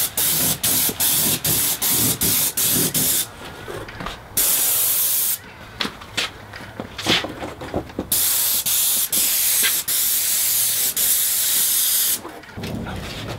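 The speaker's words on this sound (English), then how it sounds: "once I've sprayed around this window, this is still wet" An airless paint sprayer hisses in repeated bursts, short sharp blasts at first, then longer sustained sprays with brief pauses between them.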